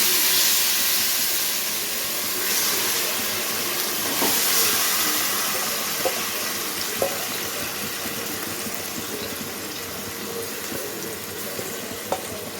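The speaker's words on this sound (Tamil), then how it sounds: "இப்போ நம்ம வந்து இதில் வந்து இந்த சிக்கனை போட்டு நல்லா பிரட்டி வேக வைக்கணும்." Chicken sizzles in hot oil in a pan, a steady crackling hiss that continues throughout with occasional small pops and clinks.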